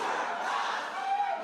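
A crowd at a city meeting shouts and clamors loudly, with overlapping voices filling the room in a continuous, agitated roar.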